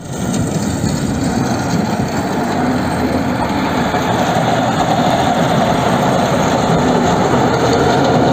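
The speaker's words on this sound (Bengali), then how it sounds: "এমনকি ট্রেনেরও আছে তাদের নিজস্ব বরফ পরিষ্কারের দৈত্যগুলো" A snow-clearing train engine runs in a loud, constant, broadband roar with a steady mechanical rumble that holds unchanged throughout, no voices.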